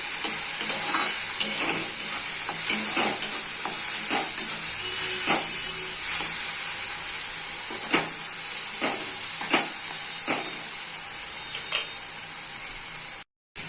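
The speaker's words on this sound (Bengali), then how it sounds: "তো আমি করে একটু ভালো করে ভাজছি।" Continuous close sizzling of mashed flat beans frying in a pan, with repeated scraping and stirring strokes against the metal, no talking.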